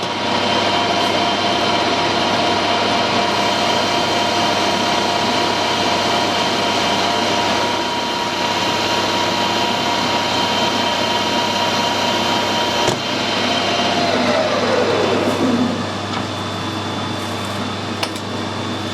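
A lathe makes a cut on an air rifle moderator, with a steady mechanical whine and hum throughout and a brief descending tone as the spindle winds down near the end.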